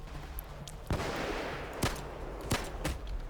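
Sniper gunfire in Payday 2, several sharp separate shots cracking out at irregular intervals over a low hum of game ambience.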